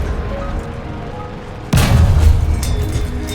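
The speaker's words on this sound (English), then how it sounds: "It is just explosion." A tank shell explodes in the War Thunder video game, a sudden loud boom breaking in after quiet battlefield rumble, followed by a rolling, rumbling decay.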